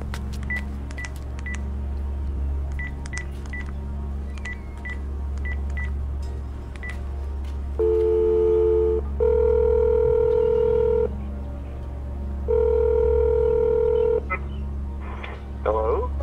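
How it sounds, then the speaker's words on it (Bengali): A mobile phone dials a number: a quick run of keypad beeps, then two long, steady ringing tones with a pause between them, over a low, constant hum. "পকেট থেকে ফোন বার করে অফিসার সুবিনয় বাবুকে ফোন করলো"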